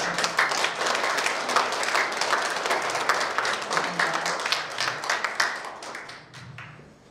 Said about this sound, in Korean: 박수를 한번 여러분들께서 주시면